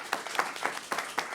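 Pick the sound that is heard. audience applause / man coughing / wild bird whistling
audience applause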